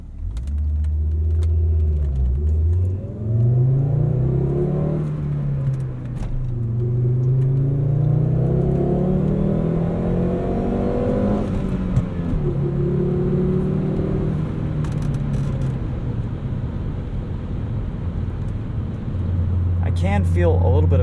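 Inside a front-wheel-drive Volvo 850 R on the road, the engine hums and rumbles steadily, its pitch rising and falling as the car accelerates and eases off, with a voice talking over it almost throughout.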